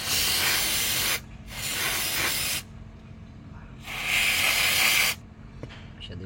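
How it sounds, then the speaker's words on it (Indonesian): Carburetor cleaner sprayed from an aerosol can into the combustion chamber of a Honda Brio engine, three loud hissing bursts of about one to one and a half seconds each, separated by short pauses. "Kita semprot dengan menggunakan karburator cleaner yang spray."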